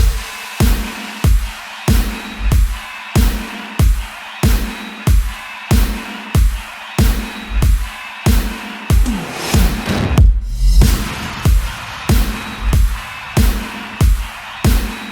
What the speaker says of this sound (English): Altogether the drum loop sounds like this.